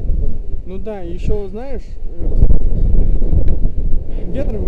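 Steady wind roars across the microphone on a 25-metre bridge, buffeting low and loud throughout, while several people talk over it.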